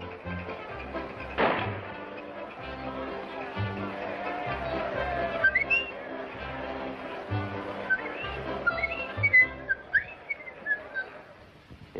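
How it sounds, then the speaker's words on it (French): A man whistles the tune Dixie in a Texas Western setting, the melodic whistling rising in the second half after talking and a single dull thunk near the start. "Monte sur l'estrade et siffle Dixie."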